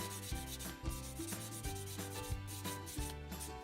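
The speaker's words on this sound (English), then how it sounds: "I don't want to sand it all away." A plastic Takom 1/35 MkIV tank hull is sanded by hand in quick rhythmic strokes, close and distinct, repeating back and forth with no speech.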